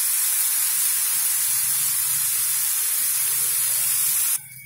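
Ground onion paste frying in a pan for paneer lababdar, a loud continuous hiss and sizzle that holds steady before cutting off abruptly near the end.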